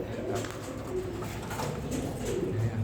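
Caged parent birds, supplemented with peanuts, feed their chicks amid continuous soft cooing, a steady low murmur of calls close by.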